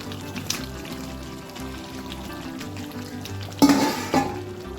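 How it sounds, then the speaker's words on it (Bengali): Meat curry with fried potatoes bubbles in a pan on a gas stove, with soft sizzling, scraping stirs and a few sharp clinks of a spoon against metal near the end. "মাংসটা ফুটে উঠেছে, আর একটু ফুটিয়েই নামিয়ে নেব।"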